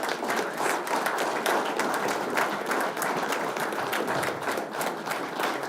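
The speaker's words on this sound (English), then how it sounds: "So let's give a round of applause to all of our new members." A city council meeting audience gives steady, soft applause for new youth council members, a continuous wash of many hands clapping at a distance without any talking.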